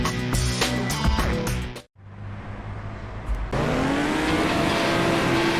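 Engine of a Toro, a two-door car resembling an Impala or Galaxy, racing in the game Ignite. It roars and shifts, drops out briefly, then climbs again in a rising rev.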